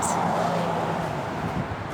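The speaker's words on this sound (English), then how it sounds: "It is loud. The traffic is just right there." Road traffic streams past a roadside campsite along the coast, a steady, loud broadband roar that holds continuously from start to finish with no clear breaks.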